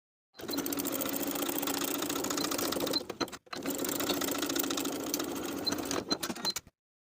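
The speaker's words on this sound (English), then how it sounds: "I'm choosing to sew that bottom edge by 3/8 of an inch, from the facing seam to the finished edge of the facing on the inside" A sewing machine stitching the bottom edge of a pajama top facing runs in two steady, fast bursts of even mechanical chatter, with a brief pause between them, close and alone.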